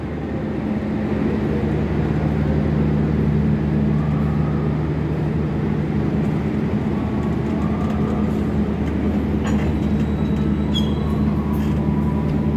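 Steady rumble of the KA Menoreh train's dining and generator car MP2 06503 at a station platform, a loud continuous engine drone with low hum lines and faint brief clanks, no speech.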